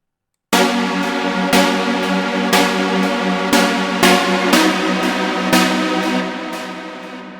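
A loud synthesizer arpeggiator pattern with half-length note steps starts abruptly, pulsing in even, regularly spaced steps about once per second, each hit bright and buzzy, sustaining and gradually fading.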